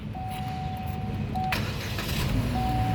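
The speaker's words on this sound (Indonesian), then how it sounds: "Sekarang kita coba nyalakan mobil ya." A 2015 Chevrolet Spin 1.5 LTZ manual car starts up: a short cranking burst gives way to a steady engine running close by, with a thin electronic tone sounding before and after.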